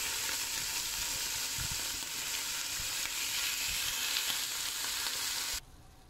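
Beef pieces browning in a hot pan for boeuf bourguignon give a steady, close, crackling sizzle for about five and a half seconds before it drops away abruptly.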